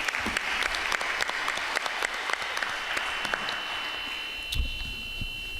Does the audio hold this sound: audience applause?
yes